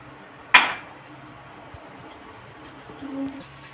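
A metal lid lifted off a wok after baking a palm fruit cake, a single bright metallic clink followed by quiet kitchen ambience and a faint soft scrape.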